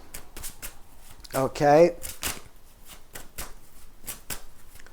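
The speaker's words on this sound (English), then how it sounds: "I'm just going to shuffle these tarot cards" Tarot cards are shuffled by hand in a quick run of crisp riffles and soft slaps, close and clear, while someone speaks briefly in between.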